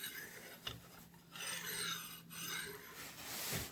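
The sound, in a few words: sanding a Volvo Penta trim tilt shaft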